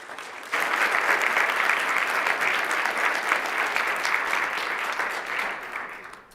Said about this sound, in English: if everyone could give them a warm round of applause